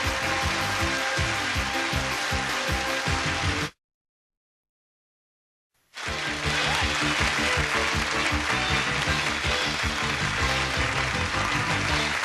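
A game-show studio audience on Press Your Luck applauds loudly, a dense roaring wash broken by a two-second silent gap before the clapping resumes at full strength over bright music-like tones.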